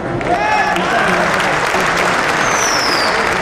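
An audience at a motivational training session claps in a thick, sustained burst of applause that stays loud and even throughout, with a voice speaking over the noise.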